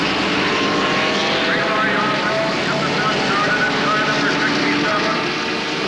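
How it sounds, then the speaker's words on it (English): Turbocharged Ford and Offenhauser race car engines roar in a loud, dense, continuous drone at the 1969 Indianapolis 500, with no break in the sound. "Wild sound of these turbocharged Fords and Offenhauser engines for the most part"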